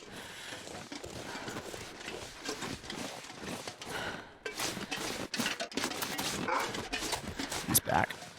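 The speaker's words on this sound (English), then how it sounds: "I heard the footstep before I heard the bark." A wolf in The Long Dark survival game barks several times amid rough crunching game noise, with the sharpest, loudest bursts near the end.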